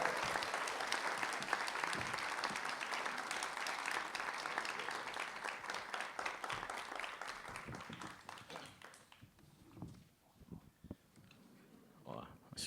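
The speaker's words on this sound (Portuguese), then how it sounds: "Vamos recebê-lo com uma salva de palmas." Applause from a book-event audience in Brasília greets a guest author, a dense, steady wash of clapping that thins out after about nine seconds into scattered claps and low crowd murmur with some talk.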